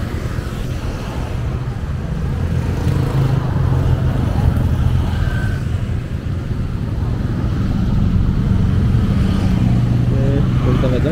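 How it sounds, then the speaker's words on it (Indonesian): Road traffic on a busy street in east Balikpapan, with cars and motorcycles passing continuously, a steady loud roar of engines and tyres with wind buffeting the microphone. "Masih teman, banyak sekali kendaraan nih."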